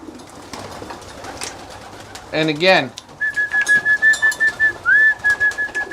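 Racing pigeons coo with soft repeated throaty calls, joined by a sharp rising whistle and a sustained whistled tone pulsing steadily, while someone speaks briefly over the birds.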